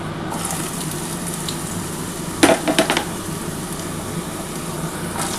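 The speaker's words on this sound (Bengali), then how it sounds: "দেখো, তেলটা আমার গরম হয়ে গেছে, আমি আলুটা দিয়ে দিচ্ছি।" Potatoes go into hot mustard oil in a pan, giving a steady soft sizzle throughout with a brief clatter of pan contact midway, close and fairly quiet.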